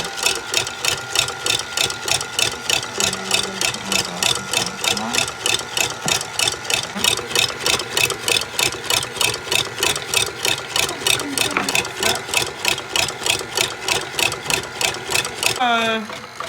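An electric ice cream maker churns mango ice cream at its low speed setting, giving a loud, steady mechanical whir with a rapid, even pulsing rhythm that holds throughout.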